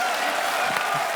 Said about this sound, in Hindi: ठोको ताली। ठोको ताली।